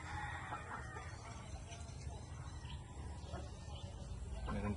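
A Roundhead gamecock clucks and crows faintly over a low, steady background hum, with no talking nearby.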